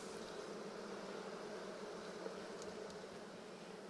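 A soft, steady drone of many honeybees buzzing at an open hive, even and unbroken throughout, with the odd faint closer buzz.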